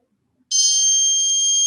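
A buzzer alarm in a Runlinc electronics project switches on with a button press, giving a sudden loud, steady high-pitched electronic tone that continues unbroken after a faint click.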